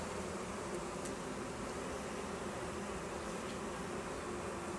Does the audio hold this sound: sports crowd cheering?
no